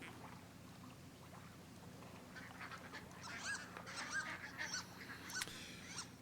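Faint ducks call in the Firewatch outdoors, with a few quacks and honks rising out of quiet ambient background partway through.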